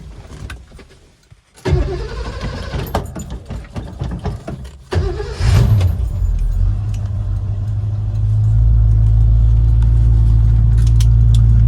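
A classic car's engine cranks and fires, then settles into a steady, loud idle as it warms up, with a brief clink like keys before the start.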